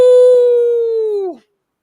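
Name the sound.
wolf howl effect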